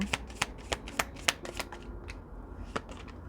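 A deck of angel oracle cards being shuffled up close, a run of crisp riffling snaps and flicks that thin out toward the end, with no voice.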